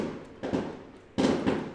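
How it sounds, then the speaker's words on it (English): Fireworks go off somewhere outside, two muffled distant bursts with a short gap between them, each followed by a brief rumbling tail. "These are people throwing out fireworks."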